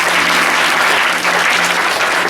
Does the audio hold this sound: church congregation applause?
yes